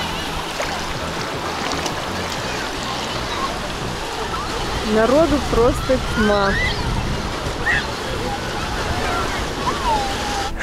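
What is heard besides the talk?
sea waves on the shore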